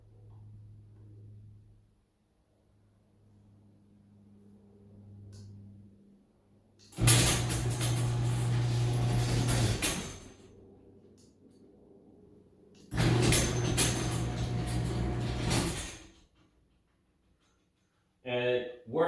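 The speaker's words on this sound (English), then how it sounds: "we're going to push the button on here to make sure that it opens and closes the" A MOES WiFi smart garage door opener drives a garage door in two long, loud mechanical runs of rumbling and rattling, separated by quiet with a low hum, plus a brief clatter at the end.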